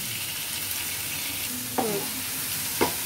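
Onion for bread bhaji frying in a pan, a steady close sizzle broken by two brief clinks of a spatula, no talking.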